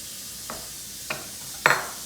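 Chicken pizza ingredients stirred in a pan, three short scraping strokes spaced apart, the last one louder and longer, with a faint sizzle underneath and no voices.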